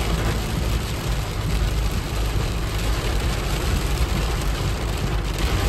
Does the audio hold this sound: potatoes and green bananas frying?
no